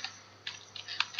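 Keys tapped on a computer keyboard while a slide title is typed in LibreOffice Impress, a handful of light, irregular clicks close by and fairly quiet over a faint steady hum.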